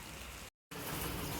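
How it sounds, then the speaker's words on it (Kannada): Heavy rain falling on a sugarcane field, a dense steady hiss of drops that cuts out for a brief moment before resuming, with no talking. "ಮಳೆ ತುಂಬ ಆಗ್ತಾಯಿದೆ ಫ್ರೆಂಡ್ಸ್."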